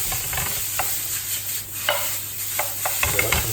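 Beef and garlic sizzle in a hot pan, a steady close frying hiss broken by short scraping stirs and a few louder clatters, with no talking.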